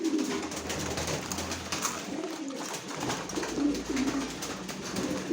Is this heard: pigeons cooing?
yes